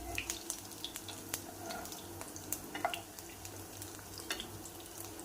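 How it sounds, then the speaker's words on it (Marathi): Hara bhara kebabs shallow frying in a pan, a soft steady sizzle with small crackling pops scattered throughout, quiet and close. "आता खालची बाजू सुद्धा आपल्याला 2 ते 3 मिनिटे शॅलो फ्राय करून घ्यायची आहे."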